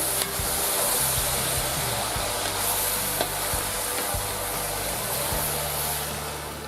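Sausage rougail sizzles loudly in a pan after tomatoes go in, a dense continuous frying hiss with scraping knocks from a stirring spoon, close and without voices.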